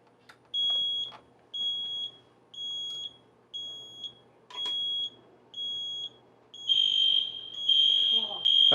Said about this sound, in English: We can set the fire alarm off and show you what it sounds like